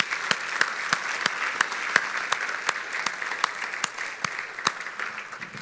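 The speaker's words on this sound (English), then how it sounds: "Let's give those folks a round of applause." Moderate applause from a crowd, a steady patter of claps with a few sharper ones standing out.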